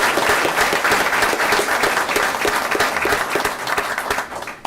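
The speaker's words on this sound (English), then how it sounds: "So let's give this guy a round of applause like he needs." Clapping from the room at a town board meeting, a loud, dense round of applause that runs steadily for several seconds before thinning and fading toward the end.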